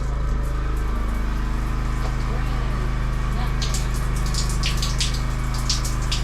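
Cold water from a newly plumbed shower in a tiny off-grid cabin runs in a steady, continuous hiss with a low pump-like hum underneath, close by for the whole stretch.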